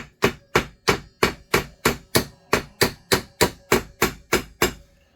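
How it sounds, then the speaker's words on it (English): Sharp metallic hammer blows peen over a chainsaw chain rivet at a steady, even rhythm, about fifteen loud close hits with short ringing decays between them. "I'm just taking a hammer to it and peening it over"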